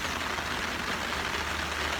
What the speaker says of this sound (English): So as predicted, it is now really raining.